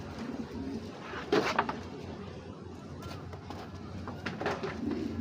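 A racing pigeon coos, with soft throaty calls coming close by and repeating at intervals over faint background hiss and a few light knocks.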